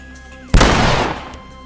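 A single loud shotgun blast erupts in The Last of Us video game, a sharp broadband crack followed by a long decaying roar, with quiet game ambience beforehand.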